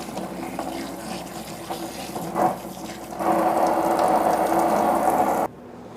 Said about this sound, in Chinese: 我再把它的肉再清洗一下。